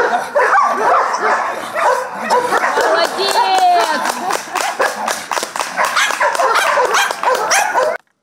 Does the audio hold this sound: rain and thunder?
no